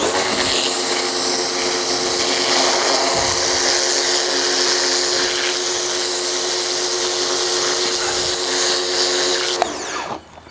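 A V-Tuf V1 pressure washer fires through its turbo nozzle onto weeds, a loud, steady, broadband hiss and motor drone held for about ten seconds before cutting off abruptly.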